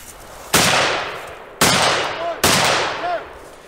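Three loud, sharp rifle shots ring out during a woodland shooting competition, each one cracking suddenly and then rolling off in a long echo, spaced about a second apart.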